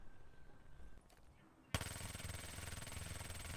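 A Vespa gun with a recoil mod fires in Black Ops 3 search and destroy, a sudden sustained burst of rapid automatic shots starting midway and continuing loudly to the end.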